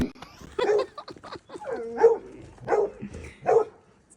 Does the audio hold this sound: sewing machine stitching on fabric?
no